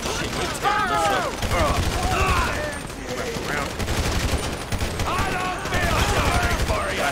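Gunfire in a GTA 5 shootout, with rapid bursts and single shots cracking repeatedly throughout and voices shouting over the shooting.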